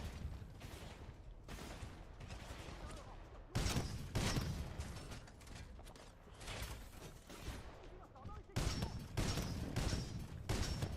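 Heavy 40mm Titan cannon fire in Titanfall 2, loud repeated booming shots in bursts with mechanical clatter, shifting in intensity across the stretch amid other combat noise.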